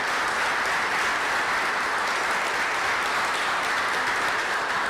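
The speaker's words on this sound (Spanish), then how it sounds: "para quien pido un aplauso por su lucha por los derechos humanos" An audience at a public event on migration in Uruguay applauds a Venezuelan human-rights guest, a dense, loud, continuous roar of clapping that holds steady throughout.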